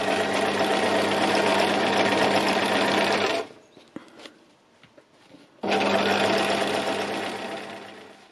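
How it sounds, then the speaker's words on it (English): Sewing machine stitching a fabric landscape, running in two loud continuous bursts with a short quieter pause of a few light clicks between them. "that's a little bit of the stitching done"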